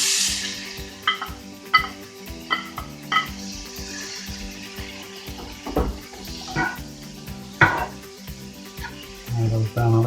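Tomatoes go into a hot frying pan for a fish and coconut curry, sizzling steadily with scattered utensil clatter and scraping, a few louder knocks along the way, and no talk.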